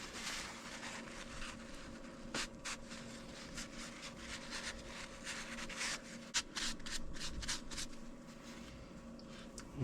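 Sandpaper with smoothing paste rubs over a Vespa scooter flywheel in quick, uneven strokes, a soft scratchy rasp close by over a faint steady hum, with no talking.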